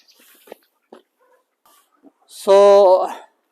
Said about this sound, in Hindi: ये दरख्तों के नीचे एक कुत्ता है मुसलसल भौंक रहा है, बार्किंग।